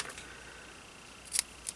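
Craft scissors cut ribbon with two quick, faint snips near the end of an otherwise quiet moment.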